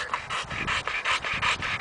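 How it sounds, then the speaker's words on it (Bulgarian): A small, tired dog pants rapidly and close by, a rhythmic run of quick breathy huffs repeating steadily without pause, with no talking. "Малкото кученце."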